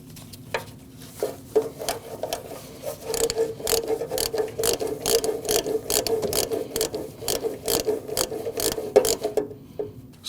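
Ratchet wrench clicking steadily as a 10mm bolt on a camshaft position sensor of a 2014-2023 Jeep Cherokee 2.4L four-cylinder is snugged down, a fast, close run of mechanical clicks with a few pauses.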